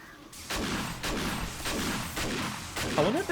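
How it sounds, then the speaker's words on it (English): A shotgun fires repeatedly at a zombie horde in the video game 7 Days to Die, blasting about every half second in a steady rhythm, followed by a brief sweeping effect at the end. "so I'm going to be using my shotgun a bit."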